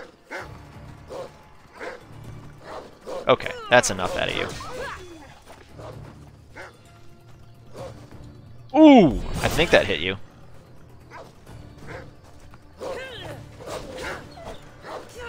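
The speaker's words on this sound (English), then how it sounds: "Oh, yeah? Stupid wolf." A wolf growling and yelping in Assassin's Creed Odyssey, snarls and a loud yelp during a fight amid game noise, while someone talks over it.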